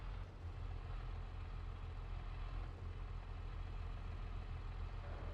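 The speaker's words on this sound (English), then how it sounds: "before we start revving it, we let the tractor warm up a little" A Renault tractor engine in Farming Simulator 22 idles while warming up, giving a low, steady, quiet rumble that drones on without change and without any talking.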